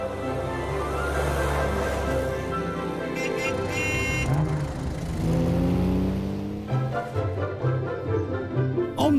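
A 1967 Aston Martin DB6 engine revs up and down close by, a rising and falling mechanical roar, with a dog barking briefly partway through.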